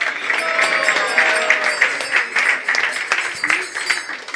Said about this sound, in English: So a big hand of applause for Hemanga Chaitanya Prabhu.